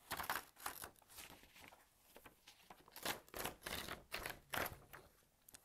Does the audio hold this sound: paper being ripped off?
yes